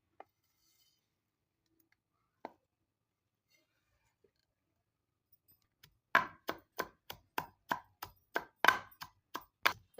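After near silence and two isolated knocks, a knife chops onions on a board in a quick, even run of about a dozen close, crisp strikes.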